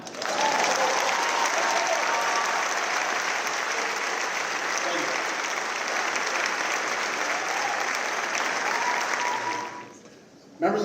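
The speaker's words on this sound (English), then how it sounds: "you can clap now." Long, loud round of applause from a large audience at a class of 2024 graduation ceremony, steady dense clapping that dies away near the end, with a voice under the applause.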